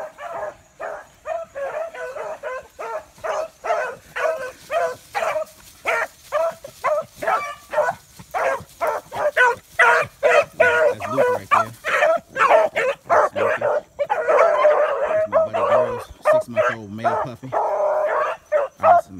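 Beagle hounds bark and yip in a rapid, continuous chorus, loud and close, with excited high yips mixed among deeper bow-wows throughout.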